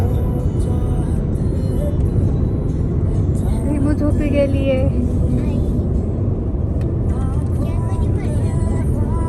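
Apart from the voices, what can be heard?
car driving on a road in Germany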